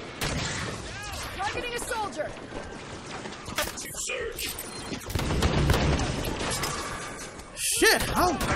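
Turret gunfire in the video game Halo 5 Guardians mixes with loud mechanical clanks and game effects, and the shooting grows heavier toward the end while voices speak over it.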